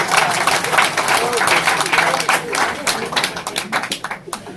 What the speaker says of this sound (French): Si vous pouvez m'applaudir aussi avec